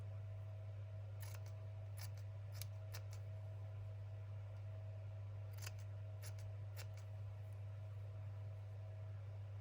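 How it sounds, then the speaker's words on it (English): Scissors snipping paper strips for a junk journal, several crisp separate cuts in two clusters over a steady low electrical hum, no talking. "I'm going to cut strips"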